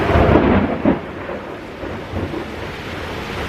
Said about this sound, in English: some people will hate the rain in the background, other people will love it